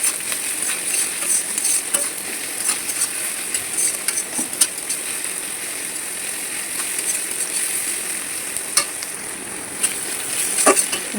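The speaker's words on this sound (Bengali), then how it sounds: "কড়াই পেঁয়াজ দিয়ে দিয়েছি, এটা লাল লাল করে ভেজে নেবো।" Onions sizzle steadily in a hot wok while a utensil scrapes and stirs now and then, a continuous frying hiss with occasional clinks.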